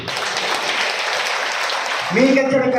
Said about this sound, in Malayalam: കയ്യടി